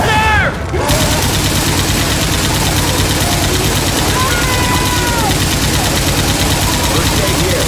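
Sustained gunfire in the Left 4 Dead 2 Tour of Terror campaign, a dense continuous rattle with engine-like rumble underneath, loud and close throughout the whole stretch with no pauses.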